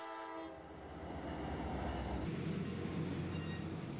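An Alaskan sightseeing train built in the gold rush era for hauling coal and gold rumbles past, with a loud horn sounding steadily over the rolling wheel and engine noise.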